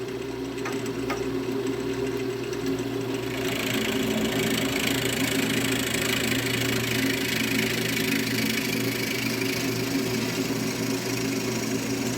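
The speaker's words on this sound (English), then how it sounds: "Now I'm going to drill my hole" A power drill bores a hole 2¼ inches deep, a continuous close motor whine with a steady hum that grows slightly louder and rougher partway through as the bit bites in, with no talking.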